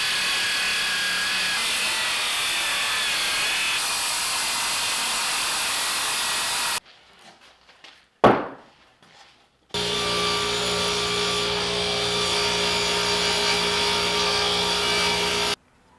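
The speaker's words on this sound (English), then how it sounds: "we're going to use some plywood, we're going to cut it to length and cut the sides," A power saw rips through plywood sheet, cutting it to length for a bookshelf in a garage workshop: a loud, steady whine for several seconds, a brief pause with a bump, then another long sustained cut.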